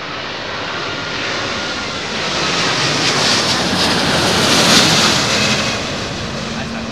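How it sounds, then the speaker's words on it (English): Airbus A350 jet airliner with Rolls-Royce Trent XWB engines at London Heathrow in high winds, a loud, steady broadband jet roar that swells gradually over several seconds as the aircraft powers up nearby. "These are quite burny, these XWB engines, so you really see the speed up."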